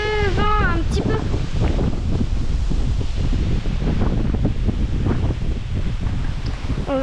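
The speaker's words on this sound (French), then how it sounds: "on a le bus avec la mer et le vent un petit peu" Sea waves and wind on the coast, with heavy rumbling wind noise buffeting the microphone and surf washing underneath, while a voice speaks briefly at the start.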